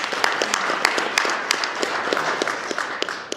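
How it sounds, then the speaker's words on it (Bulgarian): Applause from guests at a luxury social event, a dense patter of clapping with sharp individual claps standing out, steady and moderately close for the whole stretch, with no talk over it. "Аплодисменти за Ками."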